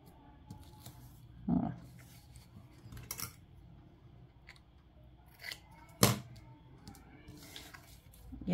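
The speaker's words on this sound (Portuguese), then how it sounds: "Corta aqui, é por isso que minha tesoura tá grudando" Scissors cut through tape that makes the blades stick, with several close, sharp snips scattered among quieter handling and rustling sounds.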